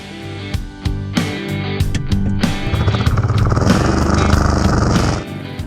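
A Royal Enfield Meteor motorcycle engine pulls a 1000 kg sedan in a tow challenge, loud and close: a few sharp blips of the throttle, then a steady rising rumble that holds for several seconds before cutting off abruptly.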